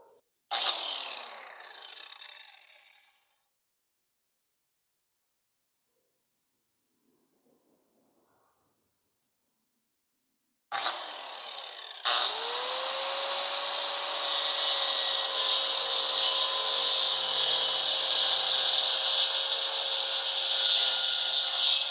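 An angle grinder fitted with a tungsten carbide disc cutting a wooden slat. A brief rough scraping burst is followed by a long near-silence, then the grinder spins up and runs loudly and continuously with a steady high whine.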